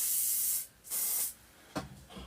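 Several bursts of aerosol spray hissing, each lasting around half a second, with short pauses between them and a couple of faint clicks near the end, spraying foliage on a model French chateau.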